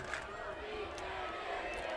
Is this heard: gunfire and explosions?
no